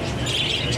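Budgerigar keets give a quick run of thin, bright chirps, close and fairly loud, in a brief burst.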